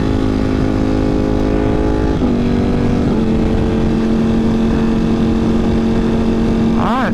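A Ducati Panigale V4 rides along a freeway, its exhaust droning at a steady pitch with a couple of brief shifts, loud and close amid constant wind rush.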